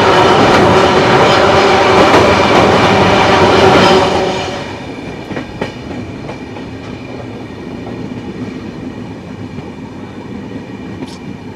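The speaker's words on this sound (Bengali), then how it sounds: "এখন ক্রস করব ডুয়ার্সের সেই বিখ্যাত মূর্তি রিভার ব্রিজের ওপর দিয়ে।" Passenger train crossing the Murti river bridge in the Dooars on the Sairang to Kolkata run: loud, dense rumble and clatter for about four seconds, then dropping to a steadier, quieter rolling noise with occasional sharp clicks and a brief high squeal near the end.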